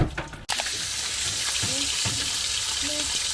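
Fish frying in hot oil, a steady loud sizzle running throughout, broken early by a brief sharp cutoff, with faint clatter and voices in the background.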